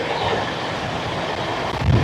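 The Black Diamond Express rolls along the line out of Raniganj station while taking a curve, a loud steady rumble of wheels and carriages with a rising surge near the end.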